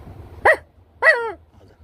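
A dog gives two sharp, close barks about half a second apart over faint background noise, with no talking.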